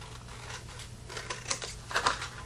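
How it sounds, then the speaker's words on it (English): Sharp scissors trimming a reused cardboard box, heard as a faint run of crisp, irregular snips and clicks close by. "use my super sharp scissors here to trim that off"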